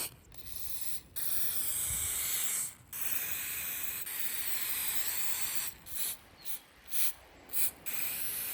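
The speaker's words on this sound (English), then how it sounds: "now I have this amazing rust protect spray that I'm gonna put on here" A rust protection aerosol spray can hisses in several sustained bursts, with short pauses between them and quicker, choppier sprays toward the end.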